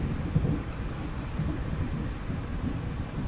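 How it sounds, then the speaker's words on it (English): Low rumbling thunder from an approaching storm rolls steadily in the distance, a deep continuous grumble with no voices. "that is thunder you hear in the background. We have a storm coming in."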